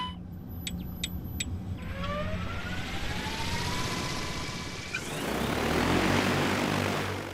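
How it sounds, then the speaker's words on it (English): Agricultural spraying drone flying outdoors while spraying water, a steady propeller whine with a rising-pitch drone and broadband rushing noise that grows louder near the end, with a few brief high beeps at the start. "only spraying water to demonstrate what the drone can do"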